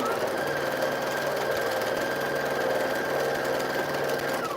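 A sewing machine runs steadily at a constant speed, its motor hum and rapid needle chatter continuous and fairly loud throughout, with no pauses.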